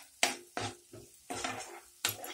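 Red chili masala powder sautéed in hot oil for Malvani-style clam masala, with several sharp stirring scrapes of a spoon against the pan over a steady low sizzle, loud and close, with no talking.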